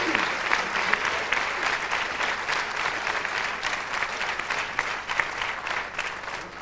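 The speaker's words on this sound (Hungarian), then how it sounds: "Azt hiszem, megérdemli a tapsot." A full audience applauds steadily at a folk dance ensemble's 25th-anniversary jubilee show, a dense even wash of clapping with no voices.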